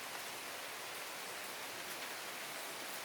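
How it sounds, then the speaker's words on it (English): Steady rain falls over a front garden, a dense even hiss of drops that holds constant for a few seconds, fairly soft and with no voices. "And it's coming down rain. Listen to that."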